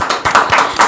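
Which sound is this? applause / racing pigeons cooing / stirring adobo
applause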